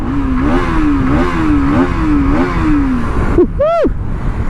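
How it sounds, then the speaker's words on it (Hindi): A 2024 Bajaj Pulsar NS 200 motorcycle revs its exhaust up and down in a steady, wavering drone, close and loud, ending with a sharp throttle blip that swoops high and falls away. "एग्जॉस्ट का जो साउंड है ना, आप सुनिए एक बार।"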